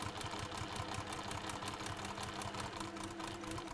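Sewing machine stitching across the top of a fabric bag, a steady rapid mechanical whirr and needle patter running continuously, close and moderately quiet.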